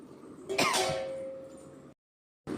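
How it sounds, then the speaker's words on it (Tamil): Tamarind water is poured into a pan of sautéed tomato and onion for an elephant foot yam kuzhambu, giving a sudden close splash and sizzle burst that settles into a steady hiss, then breaks off briefly before the sizzle resumes. "ஒரு லெமன் சைஸுக்கு எடுத்த புளிய தண்ணியை வந்து நம்ம உள்ளே சேர்த்துடலாம்"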